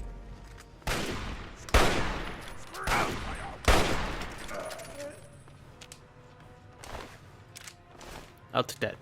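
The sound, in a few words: hunting rifle gunfire against super mutants, Fallout 3 video game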